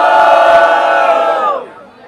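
A crowd at a Brazilian rap battle roars and shouts for one of the MCs, a loud, dense burst of voices that holds for about a second and a half and then cuts off abruptly.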